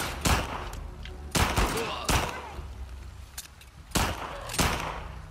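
Gunfire from The Last of Us Part II, with several sharp, loud shots spaced irregularly across the stretch over a steady low rumble of game ambience.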